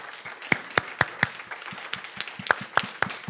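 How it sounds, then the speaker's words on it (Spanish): Scattered hand claps from a small church congregation, a handful of sharp, separate claps spread irregularly over a few seconds rather than a full ovation, moderately close. "Give a clap to the Lord."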